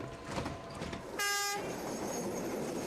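A last train runs on the rails, with a strong, sustained horn-like tone sounding for about a second in the middle of a steady rolling rail rumble, at moderate distance and with no talk.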